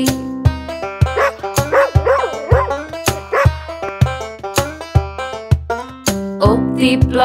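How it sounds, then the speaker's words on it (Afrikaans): A farm dog barks in repeated, rhythmic yaps over a bright, busy children's song with tuneful melody and percussion. The barks are loud and close, set into the music's beat rather than heard alone. "Op die plaas is daar 'n hond en Japie is sy naampie."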